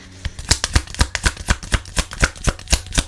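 Tarot cards being shuffled by hand, a steady run of crisp riffling flutters repeating about every quarter second, close and clear with no talking.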